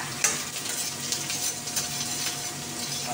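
Garlic frying in a hot pan for Bisayan-style chicken adobo, a close, steady sizzle with a few light clicks of utensil against metal, no voices.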